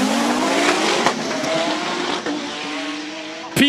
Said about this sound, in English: Peter Zili is on the start line with the Toyota MR2 Super GT